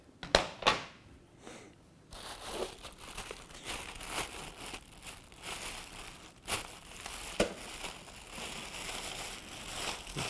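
Plastic bag crinkling and rustling as portable air conditioner parts for a Frigidaire unit, including a hose, are pulled out by hand; close, continuous crackly handling with a few sharper rustles and no talk.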